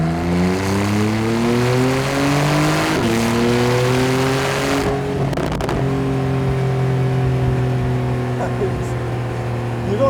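Porsche 991.2 Carrera 4 GTS accelerating in third gear at about 43 mph, its engine note climbing steadily before a gear change, with a few sharp exhaust pops and bangs around the shift; loud and close, no talk over it.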